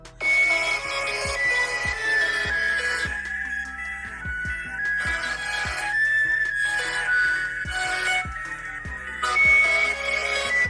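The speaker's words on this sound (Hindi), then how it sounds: "चलिए अब इस फोन की आवाज़ को भी एक बार सुन लेते हैं।" A Realme 8 Pro smartphone ringtone plays through its single bottom loudspeaker, a bright repeating electronic melody with percussive beats, fairly loud and continuous with no talking.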